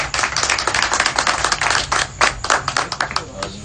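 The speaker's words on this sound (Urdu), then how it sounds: "بہت ساری تالیاں بجا دیں." An audience claps and applauds at a stage event honouring a comedian, a dense patter of many hands that rises and dips in ragged bursts over several seconds, fairly close, with a little voice underneath.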